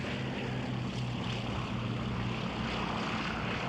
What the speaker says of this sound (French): les avions de reconnaissance alliés quadrillent les régions côtières du nord de la France